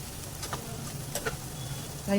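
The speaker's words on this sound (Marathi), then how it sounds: "छान अशी ना भाजी परतवून घ्यायची आहे" Raw jackfruit vegetable being sautéed in a pan, Konkani style with fresh grated coconut: a soft, steady sizzle with faint spatula scrapes throughout, ending in a brief louder clatter.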